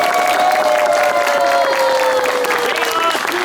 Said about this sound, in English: We would like to give them a round of applause.